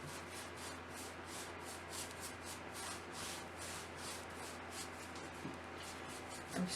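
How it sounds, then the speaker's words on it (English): Paintbrush streaking white acrylic paint back and forth on canvas, a soft rhythmic bristly rubbing in quick repeated strokes, close and quiet, with no talk. "I'm streaking this back and forth, up and down"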